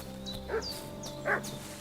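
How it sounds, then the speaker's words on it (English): Dog barking in Kingdom Come: Deliverance II, two separate sharp barks about a second apart over a steady low ambient hum, moderately close with no talking. "Doggo's barking."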